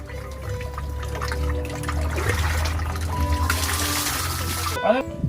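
Water pours and splashes continuously as soap is rinsed off a bather, a close running gush with some knocks, while a voice speaks over it.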